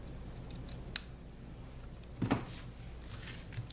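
A quiet indoor scene with a faint snip near the start and a sharper double cut midway as scissors trim the tails of a ribbon bow on a paper craft treat pouch, with small handling taps between.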